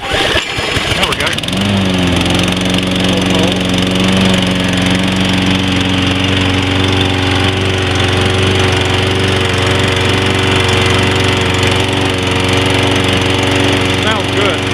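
Toro Personal Pace 22-inch walk-behind lawn mower, model 20332, starting with a brief sputter and then running at a loud, steady, close-up drone with a constant engine hum throughout.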